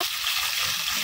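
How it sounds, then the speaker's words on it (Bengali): Pieces of snakehead (shol) fish fry in hot oil with a dense, continuous bright sizzle, steady and close for about a second. "সুন্দর করে ভেজে নেব।"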